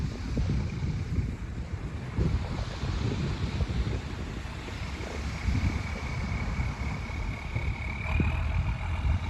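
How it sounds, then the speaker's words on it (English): An old six-cylinder diesel engine on a sea fishing boat chugs steadily at idle, a low continuous throb under buffeting wind noise, with no voices. "The old 6-cylinder diesel sound bloody lovely."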